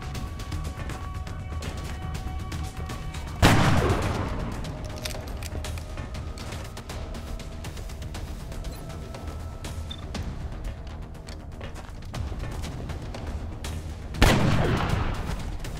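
Gunfire in the turn-based strategy game XCOM: Long War, with two sharp loud shots about ten seconds apart over a steady background music bed.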